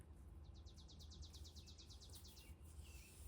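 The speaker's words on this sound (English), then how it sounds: "I hope you can hear the birds singing outside." A bird sings a quick run of rapid, evenly spaced high chirps, faint and distant over a low steady background hum.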